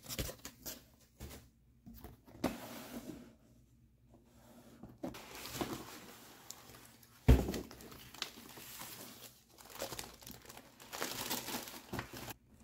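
A huge, well-packed box is unboxed, with quiet, intermittent crinkling and rustling of packaging and one sharp thump midway, close but faint.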